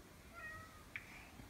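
A live cat tucked beneath a felt Halloween garland gives a single short, faint meow against a quiet room hum.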